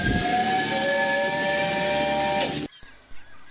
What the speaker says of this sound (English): that must be the engine arriving with the freight train